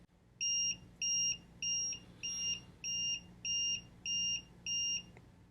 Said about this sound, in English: It'll beep 8 times and everything will light up too.